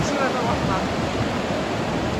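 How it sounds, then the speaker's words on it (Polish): Long ocean waves breaking on the city-centre beach of San Sebastian on a rainy day, a steady broadband wash of surf, fairly close and even throughout, with no voices. "Zobaczcie, jakie długie fale."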